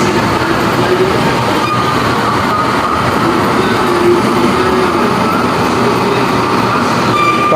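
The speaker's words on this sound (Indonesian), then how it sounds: "Pas keretanya sampai, kita langsung masuk tren ya ke Putrahaya." An LRT train at a station platform, a loud, continuous rumble and hiss of rail cars with faint wheel squeal throughout, close by, with no talk.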